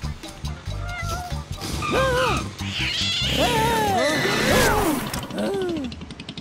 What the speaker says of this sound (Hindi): बढ़िया बिल्ली।